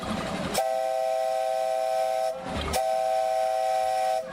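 A train whistle sounds two long steady blasts separated by a short gap, loud and sustained over a low rumble, at an outdoor National Children's Day event in Uttaradit, Thailand.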